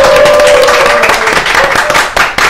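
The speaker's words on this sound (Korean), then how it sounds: "박수로." Audience applause breaks out to welcome a lawmaker at a pub-style political talk show, with loud, dense clapping that holds steady and then thins toward the end.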